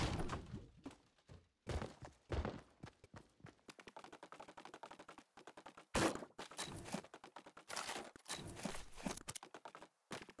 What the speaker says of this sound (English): Okay, I heard gunshots.